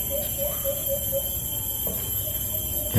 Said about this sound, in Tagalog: Yan yung huni ng isang sunsun ko